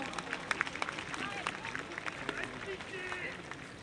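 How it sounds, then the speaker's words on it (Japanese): Crowd applause in a ballpark after a ceremonial first pitch at a minor-league Carp baseball game, a rattling mass of claps mixed with murmuring voices and general stadium bustle. "もう一度拍手をお願いいたします。"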